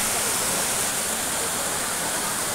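Water of the Talon River in San Jose, Batangas rushing in a steady, dense, broadband roar, loud and close, continuous and without pauses.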